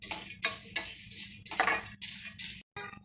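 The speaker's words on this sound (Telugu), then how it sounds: "ఈ విధంగా ఒక 2 నిమిషాల పాటు మనం వేయించుకోవాలి" Flattened rice and roasted gram dal stirred together in a pan over a low flame, giving repeated scraping, rattling clinks in short bursts, fairly close and clear with no talk.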